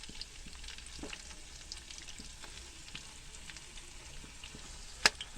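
Chicken fries with browned onions in a quiet, crackling sizzle with faint stirring scrapes and one sharp clack of a utensil near the end.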